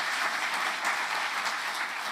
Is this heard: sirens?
no